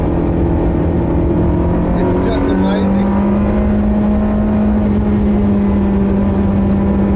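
A sports car engine drones loudly and steadily from inside the cabin while driving, its pitch climbing slightly as revs build, with someone speaking briefly over it.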